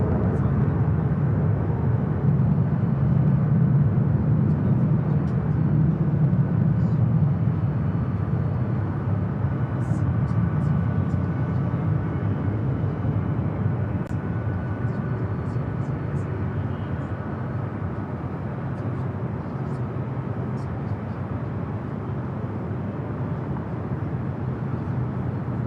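An airliner taxiing at LAX, a loud continuous low engine rumble close by that slowly eases off, with faint intermittent clicks above it.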